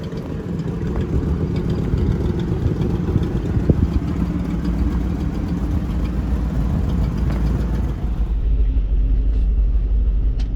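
A 1955 Ford F100 truck engine runs at a steady, loud, low idle with a constant rumble throughout, with no voices.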